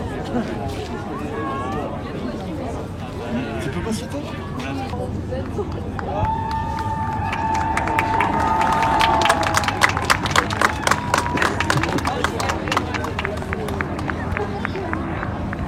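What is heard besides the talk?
people applauding stranded people at high tide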